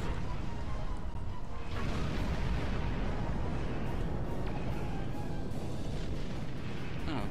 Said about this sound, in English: Oh, getting hit by explosions and things.